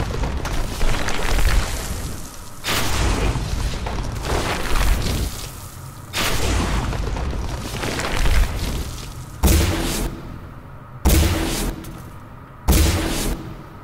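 Gunfire and blasts from the video game Singularity: a dense run of loud, booming explosive shots, then three sharp separate reports near the end with brief gaps between them.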